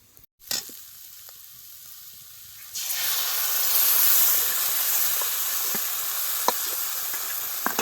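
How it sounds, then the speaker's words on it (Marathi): Cooked chana dal and moong dal tipped into hot fried masala in a pan, setting off a loud, hissing sizzle that swells after a quiet start and holds steady, with a few light knocks. "ह्याच्यामध्ये आपण ही शिजलेली डाळ टाकून घेऊ"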